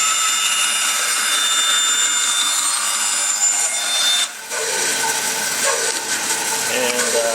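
A saw rips lengthwise through a wooden blank in a woodshop, a loud continuous rasping cut that falters briefly near the end and then carries on.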